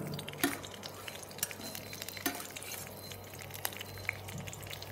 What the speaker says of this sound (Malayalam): ഉണക്കമുന്തിരി നെയ്യിലേക്ക് ഇട്ടു. നെയ്യ് നന്നായിട്ട് ചൂടാക്കി വരുമ്പോൾ അത് പാകമായിട്ട് വരും.